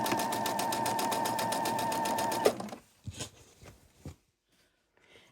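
A pedal-controlled sewing machine stitches quilt rows at a 2.5 stitch length, a rapid, even motor hum with rhythmic needle ticking for about two and a half seconds, then stops, followed by soft fabric handling.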